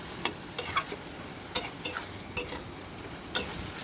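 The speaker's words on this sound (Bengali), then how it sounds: "ভালো করে নেড়ে দিচ্ছি দেখো শুকনো করে নিতে হবে" A spatula scrapes and knocks around a pan, stirring mashed ivy gourd as it cooks down dry, with sharp irregular strokes up close over a faint sizzle and no voices.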